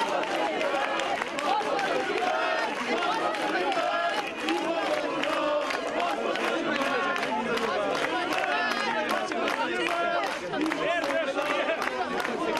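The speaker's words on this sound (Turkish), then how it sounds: "taraftarları mazbatayı ver, İmamoğlu'na mazbatayı ver tezahüratıyla destek verdi" A large crowd of football supporters chants in support of İmamoğlu, a dense rhythmic mass of voices with shouting and clapping, loud and continuous.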